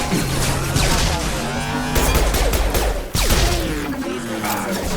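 Gunfire in the Mass Effect 2 Legendary Edition video game comes as a loud, dense, continuous barrage of rapid shots with sharp impacts and crashes, sustained for several seconds.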